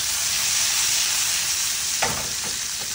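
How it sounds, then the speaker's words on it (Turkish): Steady, close sizzling of meatballs frying in hot oil in a pan fills the whole clip, with a few soft knocks partway through. "Tamamını tavanın içerisine aldıktan sonra şöyle yavaş yavaş sallayarak kızartalım."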